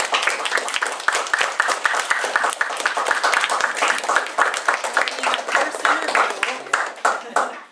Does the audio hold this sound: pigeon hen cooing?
no